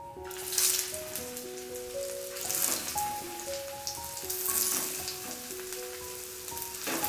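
Bathua cutlets hiss and crackle steadily as they fry on a greased griddle with little oil, a close, continuous sizzle with faint tonal notes in the background.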